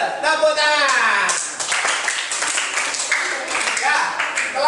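Classroom students clap together in a burst of applause, moderately loud and sustained through most of the moment, with children's voices and a teacher's talk mixed in.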